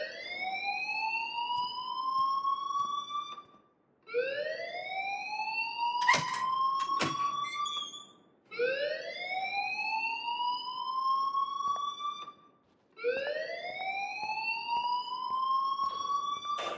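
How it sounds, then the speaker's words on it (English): Fire alarm sounding in the Life Is Strange video game, a rising electronic whoop repeating four times in a steady cycle, loud and clear with a couple of brief clicks. "please turn off that alarm since that's your job"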